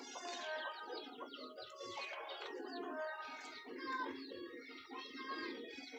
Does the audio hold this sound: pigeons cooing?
yes